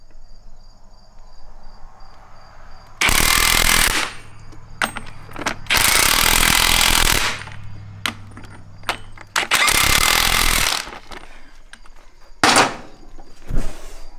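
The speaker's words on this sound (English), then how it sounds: "Get the impact and just give these little bumpy bump here." An impact wrench tightens the wedge bolts on a John Deere 2440 tractor wheel in about four loud bursts of rattling hammering, each lasting one to two seconds, with quiet shop noise and clicks between them.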